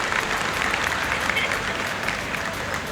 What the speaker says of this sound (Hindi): एक बार जोरदार ताली बजाकर आप उनका स्वागत करें